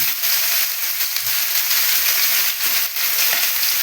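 Vegetables such as taro, potato and pumpkin sizzle in a pan for a Birbhum-style vegetable tok, giving a steady, loud hiss of frying with faint stirring clinks.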